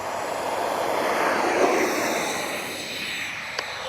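An ARROWS RC F-15 model jet with twin 64mm electric ducted fans takes off, making a loud, steady, airy whine and rushing roar that swells and then eases slightly as it climbs away.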